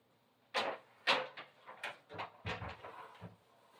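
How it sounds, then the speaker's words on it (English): A household door is pushed shut with a series of knocks and thumps, several uneven bumps and scrapes close by before it settles. "I'm going to run shut my door."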